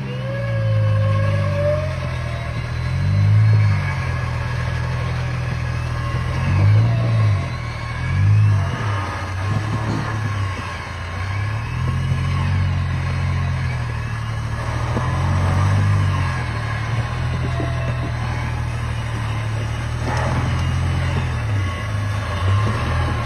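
A Ford Falcon with a Barra engine climbs a steep dirt hill, its motor droning loudly and surging in repeated revving swells as it labours upward.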